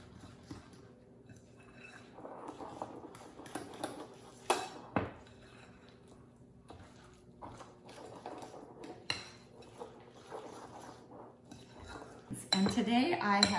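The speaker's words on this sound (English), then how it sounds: "stirring from the middle to draw into the middle from the sides" A spoon stirs vegan oatmeal cookie dough in a bowl, making soft scraping and mushing strokes with occasional louder clinks and knocks against the bowl, close up and without talk.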